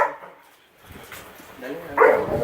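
A Great Dane puppy gives a few short barks and yips during rough play, one near the start and a louder one near the end, with people talking in the background.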